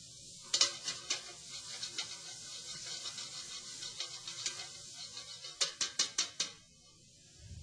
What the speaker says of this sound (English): Give us a little bit of a stir.